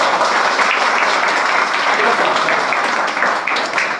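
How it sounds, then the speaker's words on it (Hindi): Loud, steady applause from a gathered audience honouring head office staff, a dense wash of clapping that fills the whole stretch without a break. "सो एक बार इनके लिए जोरदार ताली भाई।"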